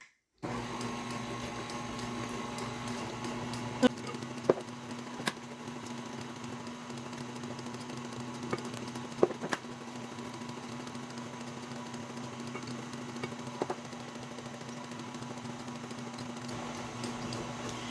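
An electric mixer drones steadily at close range while beating pound cake batter as eggs go in one at a time, with a few faint clicks and knocks over the hum and no talking.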